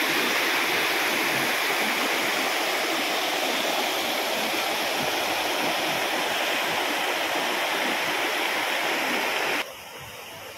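Water rushes continuously over the rocks of Vadattupara waterfall in Kothamangalam, a loud, steady roar close by that drops abruptly in level near the end.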